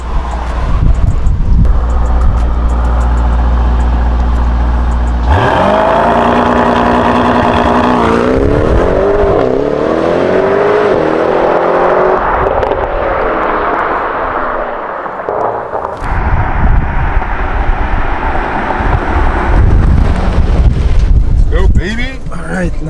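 A 2020 Mercedes-AMG GTS 63 launches from a race start, its engine rising from a steady idle into a loud, surging roar of acceleration with heavy wind rush, easing off near the end.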